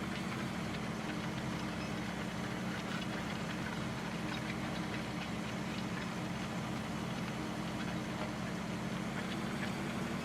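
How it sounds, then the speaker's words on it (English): A farm tractor pulls a cultivator across flat ground, its engine giving a steady, unbroken drone at moderate distance with no voices over it. "On flat ground, this tractor should be able to pull this cultivator at a pretty good speed."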